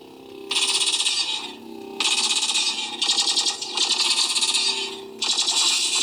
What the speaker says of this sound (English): Some really great blaster effects too.